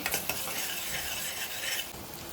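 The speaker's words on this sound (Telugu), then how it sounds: "ఇవి ఇవైతే వేగుతున్నాయి కదా ఉల్లిపాయలు" Onions fry in a pan with a steady broadband sizzle and occasional stirring scrapes, close and moderately loud throughout a brief stretch, with no voices.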